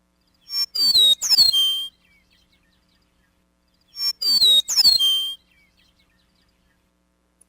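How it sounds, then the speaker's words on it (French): Eastern meadowlark song, two clear whistled phrases of slurred descending notes separated by silence, crisp and fairly close with no other sounds. "Écoutez le chant de la sturnelle des prés."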